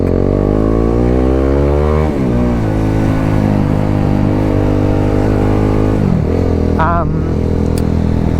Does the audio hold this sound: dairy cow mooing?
no